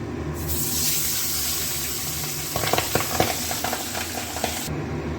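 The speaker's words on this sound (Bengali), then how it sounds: "এবার মাছগুলো এক এক করে সব ভেজে নিই" Pabda fish fry in hot oil with a steady, loud, hissing sizzle, joined midway by light clinks and scraping as the pieces are moved in the pan.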